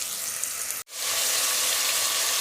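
Onions fry in a pan for a tomato palov, giving a steady broadband sizzle with one brief dropout near the start before the hiss returns at full level.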